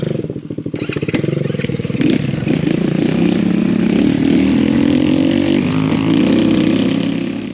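X Pro Storm 150 DLX ultra-light dual-sport dirt bike engine revving up from a sputtering start into a loud, steady, buzzy drone that holds close by for several seconds.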